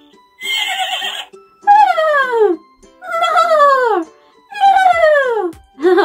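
A person vocally imitates a horse neigh several times, each a loud, quavering whinny that slides downward in pitch, with short pauses between attempts.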